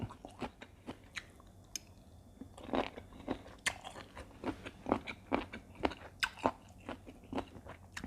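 Close crunchy chewing of a spicy Thai-style salad of cuttlefish tentacles, with repeated crisp bites and mastication in an irregular rhythm and no talking.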